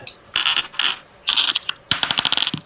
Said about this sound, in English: you can roll the full dice, which is going to be 9, just like it was against your mother